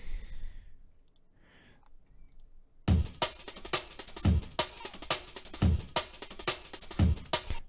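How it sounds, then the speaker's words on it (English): A drum loop with tambourines and snares kicks in after a near-silent stretch with faint breaths, then runs loud and steady with sharp, regular snare hits and bright shimmering tambourine over a low pulse. "I just love the sound of like the tambourines in this loop and the snares"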